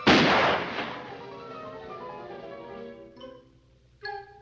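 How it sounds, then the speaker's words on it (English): A cartoon toy pistol goes off with a sharp loud bang that rings and decays into a resonant musical tone, followed by two short bright orchestral stabs, in the 1954 Looney Tunes short Baby Buggy Bunny. "Gonna shoot big bad guy Rabbit with his toy pistol."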